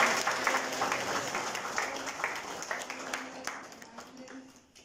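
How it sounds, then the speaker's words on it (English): Congregation clapping at a church sermon, a sustained burst of many hands applauding with a faint voice underneath, gradually thinning and fading out toward the end. "Clap for Jesus."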